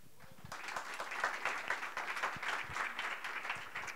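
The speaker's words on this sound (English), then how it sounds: "So can we give our panel a warm hand of applause?" Audience applause for a discussion panel at an evening youth event, a steady, fairly close wash of many hands clapping that swells and holds for several seconds.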